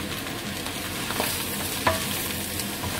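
Vegetables and tuna are stirred in a wok for a corn pasta salad, with a continuous sizzling, scraping rustle and a couple of small clacks of the utensil against the pan.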